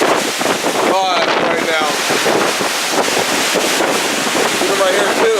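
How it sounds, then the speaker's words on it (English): Choppy ocean waves and strong wind buffet a cruise ship deck, a loud steady roar of wind and rushing water with a voice speaking over it. "the waves are very choppy over here"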